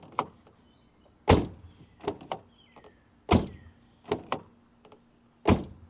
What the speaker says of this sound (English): This will allow it to self-adjust as we close the door a couple times to get it into position.